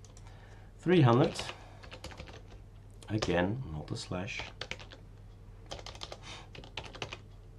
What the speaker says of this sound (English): I have some problems typing today.